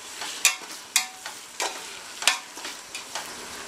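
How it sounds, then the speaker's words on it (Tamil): Ginger garlic paste frying in a pan for mutton biryani with seeraga samba rice, heard as a steady sizzle broken by several sharp scrapes of a stirring spoon, close and moderately loud, with no talking. "ஸோ இஞ்சி பூண்டு பேஸ்ட் நல்லா வதங்கிருச்சு"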